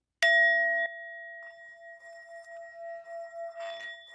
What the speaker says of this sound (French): je vais faire jouer mon petit carillon à l'ouverture de chaque épisode